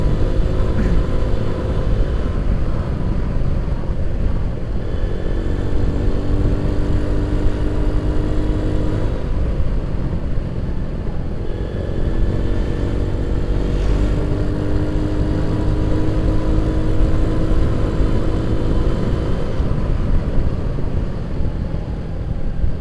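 A Yamaha Nouvo motorcycle engine droning steadily on a night ride after heavy rain, loud and close, its pitch rising and falling in long waves as the rider speeds up and eases off.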